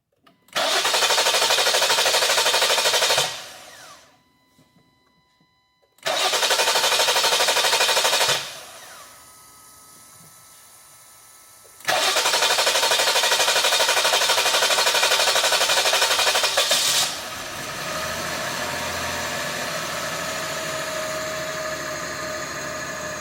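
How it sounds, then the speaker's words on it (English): A Jeep/Dodge/Chrysler 3.6 engine with a P0339 fault cranks at length: two loud, steady bursts of rapid starter-motor chugging, each lasting several seconds, separated by quiet gaps, followed by a lower, steadier running hum. "It has an extended crank again, and we'll see what it does."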